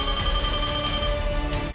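Telephone bell ringing as a sound effect, a dense continuous electronic ring that holds steady and loud, then tails off abruptly near the end, with no voices.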